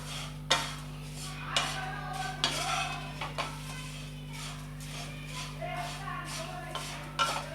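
Paper-thin flattened rice (poha) being stirred and dry-roasted in a pan, with sharp clinks of a spatula against the metal at intervals over a steady low hum, the flakes rustling between strikes.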